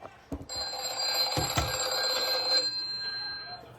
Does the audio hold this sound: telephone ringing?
yes